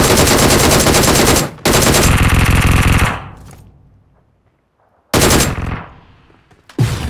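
Loud automatic gunfire in an online shooter game, two long rapid bursts back to back, then a fading echo and silence, followed by a third short burst near the end.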